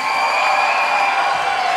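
Concert audience at a reggae show breaks into steady, dense applause mixed with cheering and whoops, a continuous loud wash of crowd noise throughout.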